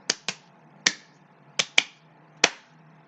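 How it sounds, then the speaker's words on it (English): Double claps from a wrestling crowd at an NXT event, sharp and close, landing in quick pairs with a pause between each pair, about three pairs in all. "Now double claps."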